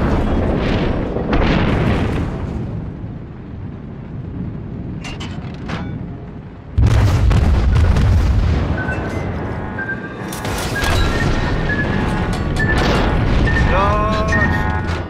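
Torpedo hits exploding against a warship in World of Warships, heavy booming blasts with crashing debris, a sharp loud impact midway followed by rumbling and crackling, with brief talk in between.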